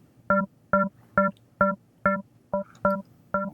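Eight short, evenly spaced plucked string notes repeat in a steady rhythm, each sounding alone, clean and close.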